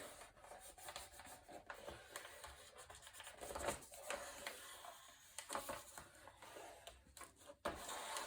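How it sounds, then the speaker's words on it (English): Paper frame rubbed down with a burnishing tool on a Stamperia Magic Forest mini album page, quiet close scratchy rubbing strokes in short irregular bursts. "And then go ahead and burnish this down."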